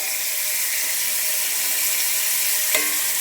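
Three pork chops fry in hot grease in a pan, a steady close broadband sizzle running throughout with a faint clink near the end.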